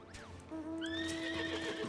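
A horse in the video game Final Fantasy XIV lets out one clear, close neigh, a rising and then wavering whinny with faint hoof clops beneath it.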